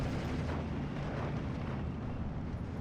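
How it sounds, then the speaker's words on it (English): A Panzer III tank fires on an M5A1 in the WWII strategy game Steel Division 2, a dense, rumbling roar of cannon fire and battle noise that stays loud and continuous for the whole moment. "Panzer III gets a shot onto the M5A1"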